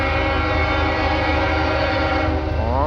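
A CSX freight train horn blares near and loud in Mount Airy, a multi-chime chord held steady for nearly three seconds before dropping off at the end.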